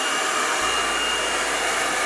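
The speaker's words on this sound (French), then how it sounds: "Maintenant, on va passer un petit coup de sèche-cheveux." Hair dryer blowing steadily on a wig freshly coated with spray gel, a loud, even whooshing roar that switches on early and then holds constant with no talking.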